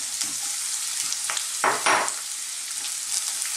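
Sliced red onions sizzle in sunflower oil in a pan, a close, steady hissing fry with a couple of brief louder bursts and light clatter as they are added.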